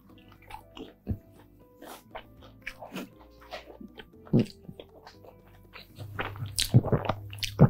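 Crispy oven-baked chicken wings, made with baking powder, being bitten and chewed up close, with a few sharp crunches and wet chewing sounds scattered over several seconds and growing louder toward the end.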